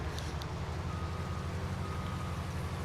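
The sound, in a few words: rain falling in video game Farming Simulator 19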